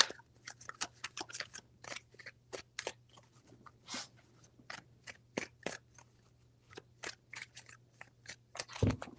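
Tarot cards are shuffled by hand in a reading, producing a quiet series of quick papery riffles and taps, irregularly spaced, close and soft against near silence.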